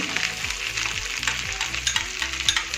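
Masala corn cooks in a pan with a loud, close sizzle and repeated scraping stirs, spluttering and crackling in uneven bursts, with no voices over it.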